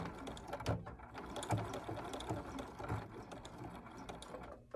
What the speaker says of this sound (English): then I'm going to back stitch real quick here